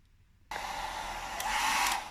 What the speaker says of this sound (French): Je vais sécher au sèche-cheveux pour gagner du temps.